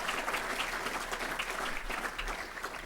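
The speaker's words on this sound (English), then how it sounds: "Give BAM a big round of applause." An audience at an investment manager conference claps steadily in a dense wash of applause, fairly faint and distant, with no voices standing out.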